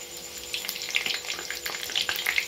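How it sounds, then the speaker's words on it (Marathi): Urad dal bhaje, Maharashtrian lentil fritters, frying in oil over a low flame: a steady close crackle and bubbling sizzle with small pops, continuous and fairly soft, with no voices. "भजे असे मंद आचेवरच तळायचे आहेत, त्यामुळे मधातून व्यवस्थित तळले जातात।"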